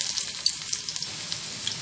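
Onions fry in oil in a pan for a dal dish, giving a steady, close hiss of sizzling with small crackles and pops and no voices.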